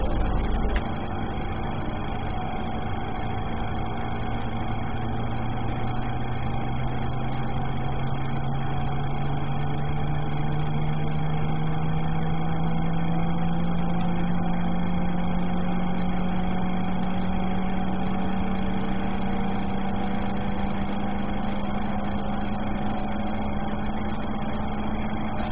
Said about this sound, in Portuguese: Ligar motor número 1.